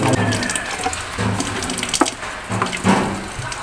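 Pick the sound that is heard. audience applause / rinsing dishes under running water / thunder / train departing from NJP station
rinsing dishes under running water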